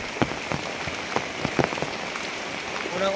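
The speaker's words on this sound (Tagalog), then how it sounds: "Kay ulan naman gyud, kusog kayo ang ulan" Heavy rain pours steadily onto a surface, a dense close hiss with scattered louder drops and splashes throughout, and no voices.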